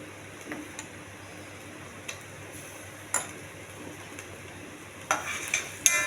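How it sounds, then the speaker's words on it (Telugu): A spoon stirs cooked okra curry mixed with a paste of coconut, tomato, peanuts and cumin, giving faint, sparse scrapes and soft clicks against the pan with a low, gentle sizzle in a quiet kitchen. "బెండకాయ ఉడికింది కాబట్టి కొంచెం పచ్చివాసన పోయేంత వరకు కలపాలండి"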